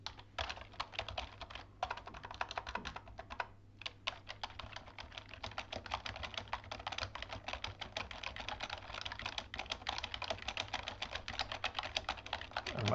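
Quiet, continuous typing on a computer keyboard, with rapid uneven clicks, a few brief pauses and no talk.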